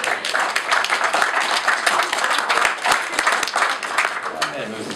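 An audience at a ceremony claps steadily, a loud, even wash of many hands with scattered sharp individual claps throughout.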